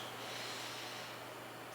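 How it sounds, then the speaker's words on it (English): Someone breathes in and out through the nose during a morning exercise routine. It is a single, soft, airy nasal exhalation, close and steady, with no talk. "Nice even breaths in and out of the nose."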